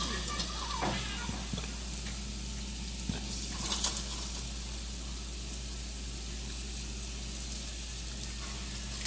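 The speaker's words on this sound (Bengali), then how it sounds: "রসুনটাকে আমি নেড়ে চেড়ে পেঁয়াজের সাথে একটু ভাজতে থাকবো" Garlic frying with onion in a pan, a soft continuous sizzle with a few light stirring scrapes, all under a steady low electrical hum.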